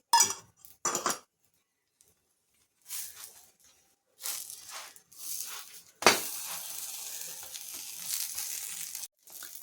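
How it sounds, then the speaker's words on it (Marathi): Cheese corn paratha roasts in ghee on a hot pan, with bursts of sizzling and clinks of a spatula separated by quiet gaps, ending in a steady loud sizzle. "त्या पराठ्याला आपल्याला दोघं बाजूंनी छान तूप टाकून शेकून घ्यायचं आहे"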